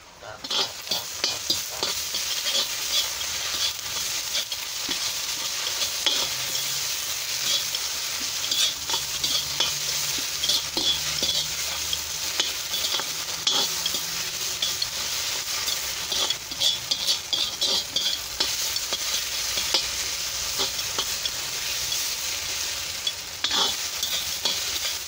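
Tomato paste sizzles and crackles in a hot kazan over a fire while a utensil scrapes and stirs it in frequent strokes, close up and continuous.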